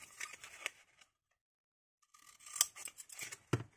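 Several quick snipping cuts from scissors cutting a plastic cup, close by, in two bursts separated by a silent pause of about a second.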